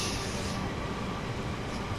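Steady, dense rumble inside a moving train on a Sunday morning ride, broadband rolling noise holding constant and loud throughout with no voices.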